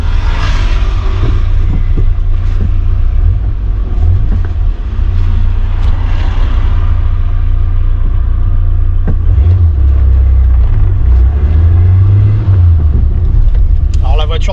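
Peugeot 205 1.1 XL three-door from 1989 driving on a road, a steady mid-low engine and road rumble running throughout, with someone talking over it.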